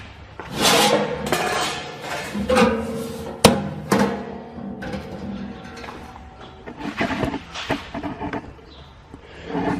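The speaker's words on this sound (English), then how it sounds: "slide the door back and forth for the airflow. Slide it all the way open to load it." A metal door on a homemade portable hot-tent stove slides back and forth, giving loud scraping and clanking bursts with sharp metallic knocks and brief pauses between strokes.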